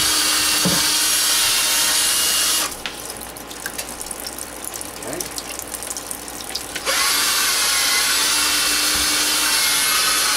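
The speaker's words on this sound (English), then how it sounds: "so sand the base of the ball too" Sandpaper rubs against the ball and shaft of a Wico arcade joystick during restoration, a close, continuous gritty scratching that persists for most of the clip with one brief quieter pause.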